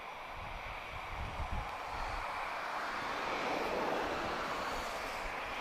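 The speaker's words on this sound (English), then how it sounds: "Powered by two GE90-115Bs, most powerful commercial jet engine in the world." A jet powered by two GE90-115B engines makes a broad, steady roar at Lisbon Airport that swells slightly and holds throughout, with no voices.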